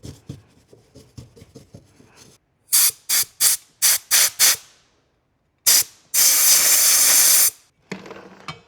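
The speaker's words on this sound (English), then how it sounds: "take some compressed air and dish soap and a brush and just kind of clean out these screws" Compressed air blasts dirt out of the screw heads on a four wheeler, coming as a run of short loud hissing bursts followed by one longer sustained spray, close up, with light clicking between and no talk.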